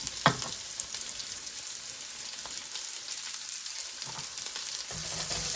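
French green beans fry and caramelize in hot oil, giving a steady soft sizzle with a few sharper pops and brief stirring scrapes, close and alone with no talking.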